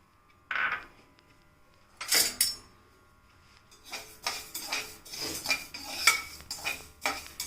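Coriander seeds dry roasting in a pan for stuffed brinjal masala, with dry scraping and rattling strokes from a stirring utensil that start sparse, then grow into steady, fairly close bursts near the end.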